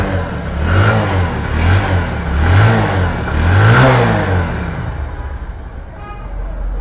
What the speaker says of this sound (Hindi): दुटी नतून प्लाग लागानोर पर देखें हमें बाइकटी स्टार्ट करतेछि